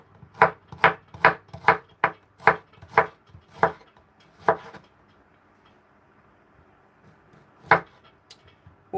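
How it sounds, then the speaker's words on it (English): A knife chops cucumbers on a cutting board with about nine crisp, evenly spaced knocks, then a pause and one final chop. "after chopping our cucumbers"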